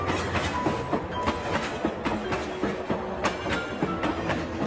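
A train rolls along with steady rhythmic clickety-clack of wheels over rail joints, a continuous rumbling rush with regular sharp clicks, close and fairly loud, no voices.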